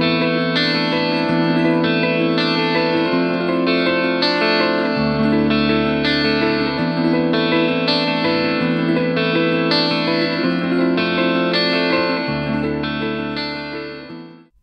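Electric guitar played through a BluGuitar Amp1 with a Fender Twin-style clean tone, a steady loud run of sustained chords and notes washed in chorus, echo and reverb, alone with no talking, fading at the end.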